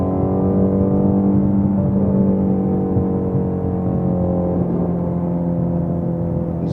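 Ford Mustang GT350 high-compression engine held high in third gear on a highway, a loud steady drone with layered harmonics that eases slightly as revs drop, heard from inside the car without talk.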